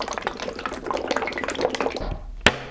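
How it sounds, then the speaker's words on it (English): A bottle of thick, viscous Venetian shoe cream shaken hard, giving a steady wet sloshing and rattling for about two seconds before a single sharp knock as it stops, close by. "Actually, first you have to shake it up because this is pretty viscous and sometimes you can get clumps in"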